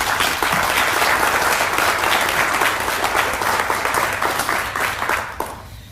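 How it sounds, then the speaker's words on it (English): A large audience applauds at a Teacher of the Year 2021 ceremony, with steady, dense clapping that holds for several seconds and then thins out near the end. "One more round of applause for Vernity Motor Cars."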